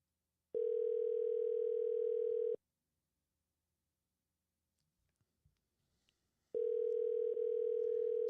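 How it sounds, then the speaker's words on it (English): Telephone call ringing out: two long, steady ring tones about two seconds each, separated by roughly four seconds of near silence with a few faint clicks. "she's going to hear her phone ring"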